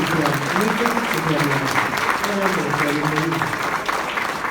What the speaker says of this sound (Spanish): Recibamos pues con un fuerte aplauso